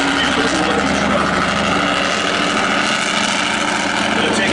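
The Raptor monster truck's engine at a monster truck event, a loud continuous rumbling drone close by that holds steady throughout, with some crowd or announcer noise mixed in.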